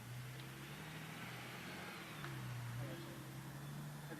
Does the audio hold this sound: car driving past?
yes